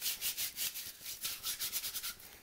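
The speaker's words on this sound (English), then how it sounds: "I'll then scrub my hands really good." Hands being scrubbed with baking soda, a quick rhythmic back-and-forth rubbing of about a dozen short gritty strokes, close and alone.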